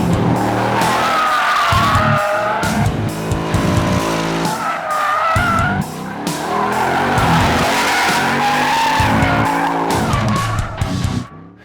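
2022 Ford Mustang GT California Special V8 drifting, its tires squealing in long skids over a revving, roaring engine that rises and falls through repeated gear changes, loud and close throughout.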